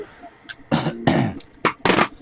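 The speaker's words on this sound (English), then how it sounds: "I'm coughing in the webcam and I'm coughing in real life." A person coughs several times in close succession, loud and close, in short harsh bursts with brief pauses between them.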